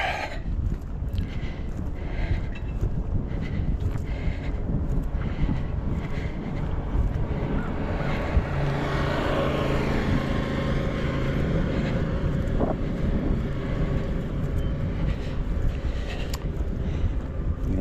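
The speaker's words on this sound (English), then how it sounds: "It's a little breezy today, like I said." Steady breezy wind buffets a microphone outdoors on a long walk, a constant broadband rumble throughout with no letup, loud and close, no voices.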